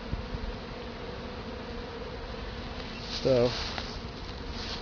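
A honey bee swarm buzzing as a steady, close drone throughout, with a short louder swell near the end as a voice briefly speaks.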